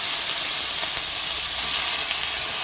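Banana stem (thor) frying in a wok with oil, black cumin and dried chilies, a loud, dense, continuous sizzle close up with no talking.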